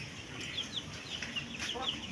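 Hens cluck steadily while Super Texas chicks peep in short, high chirps, close and continuous with a little background noise.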